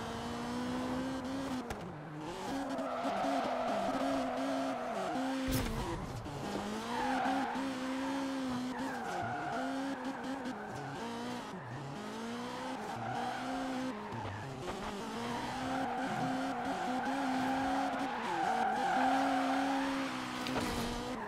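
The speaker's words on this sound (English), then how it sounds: "you can hear more turbo." In a drifting video game, a turbo racing car engine wails with rising and falling pitch as tires squeal in repeated skids, loud and continuous for the whole stretch, with no talking.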